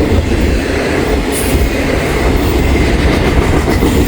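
A BNSF freight train with single and double stacked cars and a mid-train DPU locomotive rolls past close by, a loud, steady roar of wheels and rail clatter filling the whole span.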